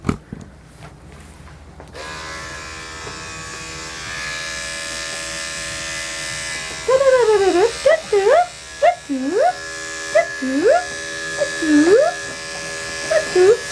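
Electric clippers fitted with a 10 blade buzz steadily and close by while trimming around a Shih Tzu's eyes. The dog gives repeated high whimpers partway through.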